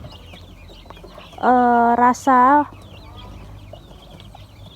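Chickens raised on an Indonesian poultry farm let out a loud, harmonic squawk in two close bursts, set against quieter background chatter and distant bird calls.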